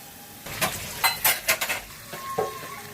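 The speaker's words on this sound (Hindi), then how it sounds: "ये ऐड किया घी और अच्छे से भून लेंगे। और लो फ्लेम पे आप जितनी देर तक इसे भूनेंगे" Grated carrot halwa being roasted in ghee over a low flame: a spoon scrapes and stirs against the pan in several close, irregular strokes above a faint sizzle, and no one speaks.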